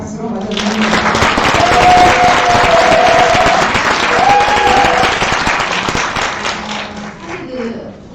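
An audience at a National Assembly forum in Korea claps to welcome a speaker to the podium, loud sustained crowd clapping that swells early, holds steady, then tapers off toward the end.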